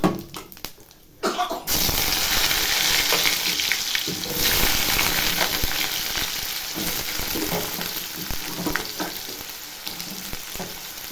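Washed potatoes drop into hot oil tempered with cumin, bay leaf and dried chilies. After a short quiet rustle, a loud burst of close frying hiss erupts and settles into a steady sizzle with occasional stirring.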